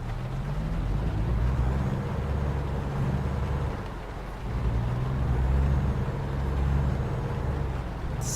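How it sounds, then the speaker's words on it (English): A rental truck in American Truck Simulator runs in rainy weather around Eureka, Northern California, giving a close, steady low engine rumble that swells and eases slightly as it runs. "go ahead, turn on the engine"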